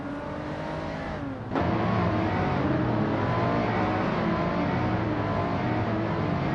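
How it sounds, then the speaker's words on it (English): Renault Megane Trophy race cars roar together in a racing video game, with a steady dense engine drone that jumps louder after a brief dip and holds at high revs. "The Megane Trophy cars are closely matched, making the race very competitive."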